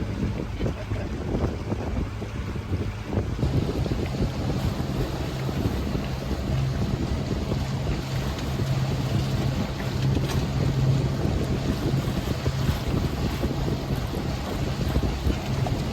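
Steady wind buffets the microphone throughout a harbour boat tour, with a constant low engine hum from the boat underneath; no talk.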